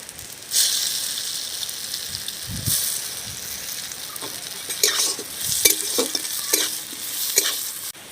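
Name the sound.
stirring and frying green mango in a pan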